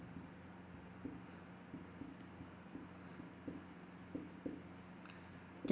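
Pen writing by hand on paper while checking the answer to a one-variable linear equation, a soft steady scratch with faint regular taps of strokes, close and alone without talk.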